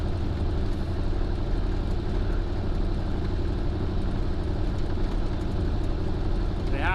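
A 1970 John Deere 4430 tractor engine runs steadily while driving, a constant low diesel drone with even mechanical pulsing and no breaks.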